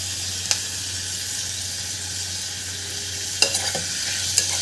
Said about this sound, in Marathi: याला छान परतून घ्यायचं आहे आपल्याला हा मसाला याला लागला पाहिजे छान